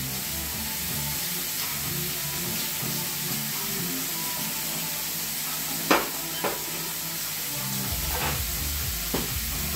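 Dry white wine poured into a hot pan of large prawns sizzles and steams in a steady broadband hiss, with a few sharp clicks and taps of a utensil against the pan near the middle and end; no voices.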